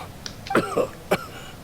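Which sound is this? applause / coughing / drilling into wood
coughing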